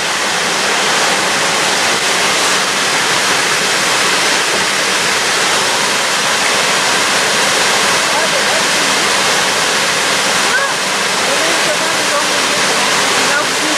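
Large waterfall gushing with a heavy, steady roar of falling water that fills the whole clip without a break, close and loud throughout.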